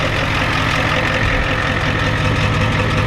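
A Ford F-250 with a 7.3 IDI diesel and its muffler removed idles loudly and steadily up close, with a deep, rough rumble that stays even throughout and no voices over it.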